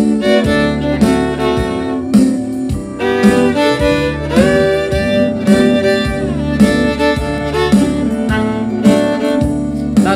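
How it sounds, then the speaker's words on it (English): Country fiddle plays a steady run of regular double stops, two chord notes bowed together. The strokes are rhythmic and close, with accompaniment underneath and no talking. "Regular double stops, like notes that are in the chord, sound like this."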